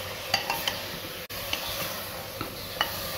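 Chicken curry with tomatoes and meat frying in a pan at an Indian street food stall, a steady close sizzle under repeated sharp stirring clinks of a spoon against the pot, with one brief dropout midway.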